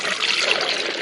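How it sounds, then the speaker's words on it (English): Water pours steadily into the rear reservoir of a Hamilton Beach 12-cup programmable coffee maker, a continuous close splashing trickle with no pause. "So now we're going to pour in the water in the back."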